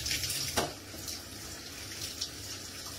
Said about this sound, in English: You must wash your vegetables.